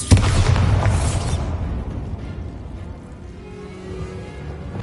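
A Bombarda blast spell in Hogwarts Legacy bursts loudly at the start, a broad heavy boom that rolls off into a lingering low rumble and debris-like noise over the following seconds.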